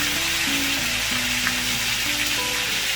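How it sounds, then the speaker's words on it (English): Fish fingers deep frying in hot oil until golden, a dense, continuous close sizzle and bubbling with faint tonal hum underneath, no talk. "Leave it fry for another 10 to 20 seconds"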